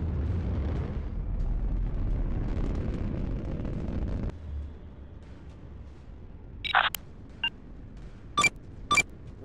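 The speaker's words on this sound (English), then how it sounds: "Missile away, tube clear." A missile fired in a video game: a heavy low rumbling roar rolls for several seconds, then fades into quiet background, followed by a few short sharp bursts and clicks.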